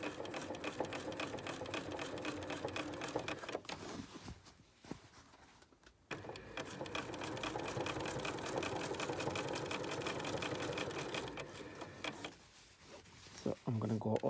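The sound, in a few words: sewing machine stitching bustier bra cup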